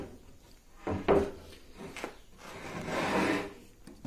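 Manual drilling into angelim pedra hardwood gives a few scraping, rasping bursts with brief pauses between them, close and fairly quiet.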